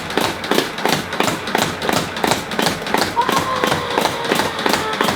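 A Nerf Mastodon blaster fires darts in rapid succession, a steady stream of loud, close, evenly spaced thumping pops, with some shouting among players during a Nerf gun game.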